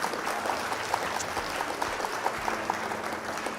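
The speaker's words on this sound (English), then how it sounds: "Round of applause for our opponent." Steady clapping from a small group, continuous and moderately loud, with no voices over it.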